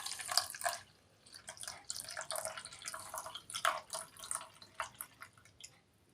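Water trickles and splashes into semolina (rava) while preparing kachayam, a soft broken pouring with irregular drips and bursts, close and fairly quiet, with no one talking.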